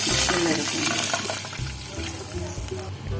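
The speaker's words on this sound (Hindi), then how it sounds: "इसमें 1 कप पानी का डाल दें" Water pours steadily into a pan for a few seconds, a splashy rushing flow that eases slightly toward the end, close by.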